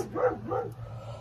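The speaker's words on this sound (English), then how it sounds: "the little dogs just took off on me" Small dogs yapping outdoors in a yard, a few quick high barks close by over a low steady background hum.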